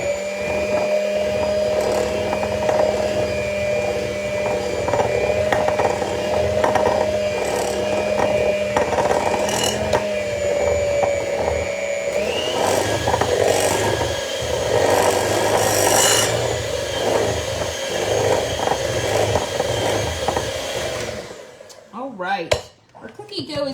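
Maple cookie dough for chewy cookies is stirred in a bowl, giving continuous scraping and rubbing close up, with a humming appliance running for much of it.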